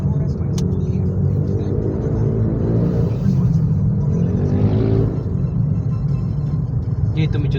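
Road traffic with a steady low engine rumble from cars on the road. A vehicle swells and passes close by around the middle, and voices talk over the drone.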